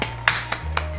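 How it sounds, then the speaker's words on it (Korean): A few people clapping, with four sharp separate claps spaced evenly over about a second against a low steady hum. "둘 다 박수."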